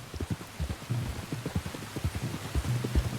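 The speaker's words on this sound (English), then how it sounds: "You were right about the damn rain." Rain falling in the video game Red Dead Redemption 2, a soft, steady patter with irregular low thuds of drops and footsteps-like knocks, fairly quiet and without talk.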